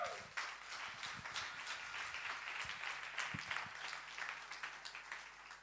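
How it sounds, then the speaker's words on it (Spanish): A church congregation applauds in steady, sustained clapping that fills the room for several seconds, with no voice over it. "Dale un aplauso a Jesús."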